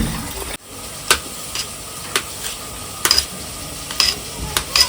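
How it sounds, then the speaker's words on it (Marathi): Onions for a mutton curry fry with a soft, steady sizzle in a pan, punctuated by several sharp metallic clinks of a spoon stirring against the pan at roughly one-second intervals. "तर इकडं कांदा शिजतंय."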